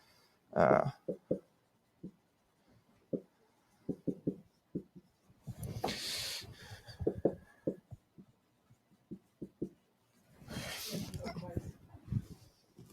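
Marker or chalk strokes on a classroom board during an accounting lecture, a run of short scratchy taps and squeaks in uneven bursts, with louder rubbing swipes mixed in and a lecturer's voice faintly around them.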